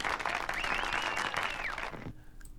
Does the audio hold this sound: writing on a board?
no